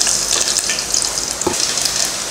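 Mustard seeds crackle and sizzle in hot oil as a tempering for rasam, a steady close frying hiss broken by scattered pops and one sharper burst, with no voices.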